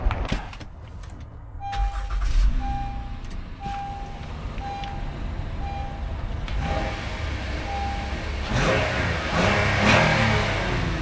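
A used Lexus RX350 engine cranks and starts, settles into a steady idle while a chime beeps at regular intervals, then revs up loudly near the end.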